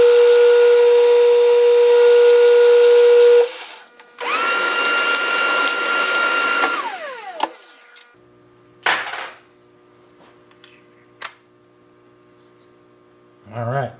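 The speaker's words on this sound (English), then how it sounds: "now I'm going to bore out this recess" A power drill bores a recess into a wooden yo-yo with two loud sustained whining runs. Scattered clicks and knocks follow after the motor stops.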